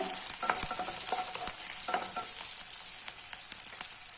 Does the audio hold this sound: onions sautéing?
yes